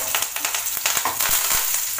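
Four dried red chillies fry in hot oil with popped mustard seeds, a continuous close hiss and crackle with a few brief scraping knocks, no voices.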